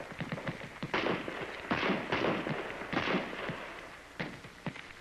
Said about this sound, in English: At last, you're ready for practice firing on the big range.